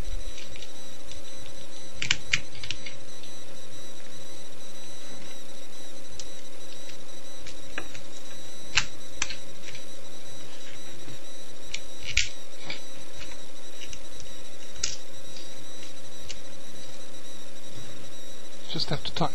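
Small nuts and bolts being fitted into a plastic serial cable back shell: sparse tiny clicks and plastic taps close by over a constant electrical hum, without talk.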